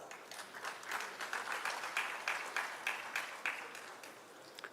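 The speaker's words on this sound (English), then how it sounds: "she deserves a big round of applause" An audience at a state-level consultation program in Ranchi claps in sustained applause. The dense clapping is moderately distant and holds steady before fading slightly at the end.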